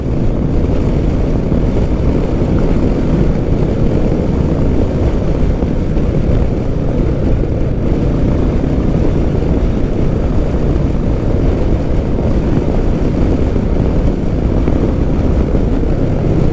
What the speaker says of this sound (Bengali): বাইক শুধু যাচ্ছে 80 আর 90 আর 100-র মধ্যে